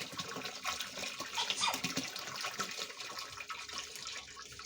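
Water rushes steadily from a partially closed tap on a home pump heating system, a faint continuous hiss and splash with no voices.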